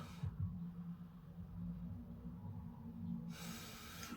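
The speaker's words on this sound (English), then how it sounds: "have a sniff of this." Someone sniffs at an opened can of 4.4% dry stout from Wild Horse Brewing, a short close breathy inhale heard quietly with no speech.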